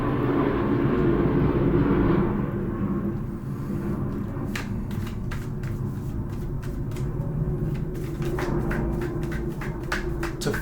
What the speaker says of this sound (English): I hear a pilot in the sky.